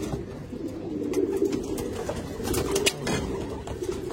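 Pigeons cooing in a loft: low, throaty coos repeating in uneven bursts over a busy background, near and moderately loud, with no talk.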